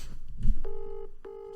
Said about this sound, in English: The phone's being dialed now.